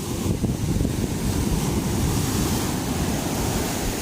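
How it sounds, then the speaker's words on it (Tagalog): Big ocean waves breaking on a beach at Tiwi, Albay, heard as a steady, loud wash of surf with heavy wind buffeting the microphone throughout, no talking. "So ang lalaki ng mga alon dito."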